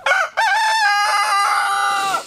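Chickens inside a coop, a rooster crowing loudly and close in one long, wavering cock-a-doodle-doo after a brief opening call, with no talk over it.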